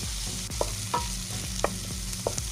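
Fish stew simmering in coconut milk with ginger, stirred in a pot, with a low bubbling hiss and a few soft spoon clinks at irregular intervals, no voices.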